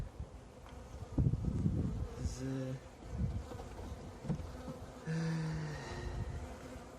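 Steady insect buzzing of honey bees in a hive in December, close and continuous, with a few brief tonal hums and some handling noise mixed in.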